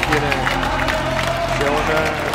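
Ice hockey arena crowd applauding and cheering a player's first career goal, a steady dense roar of clapping throughout, with a commentator talking over it.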